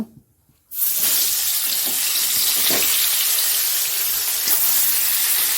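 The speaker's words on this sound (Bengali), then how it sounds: "এখানে মাছগুলো ছেড়ে দেবো ভাজার জন্য" Fish coated in salt and turmeric dropped into hot oil, a sudden burst of loud hissing sizzle that starts after a brief near-silence and holds steady, close with no talk.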